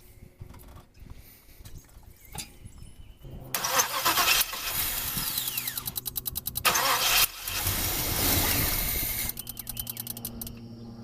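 A Chevrolet El Camino engine, just repaired after a fuel pump fault, cranks and then catches into a loud, rough idle that surges and drops in short pulses, close by with no talk.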